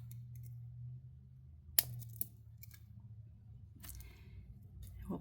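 Wire cutters snipping jewelry wire while making a bracelet, one crisp close snip followed by a second smaller click, then faint handling noises over a low steady hum.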